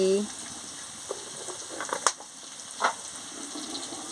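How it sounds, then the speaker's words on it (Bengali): Spice masala with a little sugar and salt being sautéed in a pan for an okra chachchari: a quiet, steady frying hiss broken by a few sharp scrapes and clinks of stirring. "দিয়ে ভালো করে মশলাটাকে কষিয়ে নিচ্ছি"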